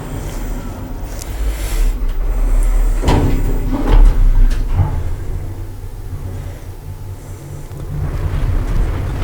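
Lift doors slide shut with a rumbling mechanical rush and a couple of knocks, followed by a steady low hum and hiss from the lift, and no talking.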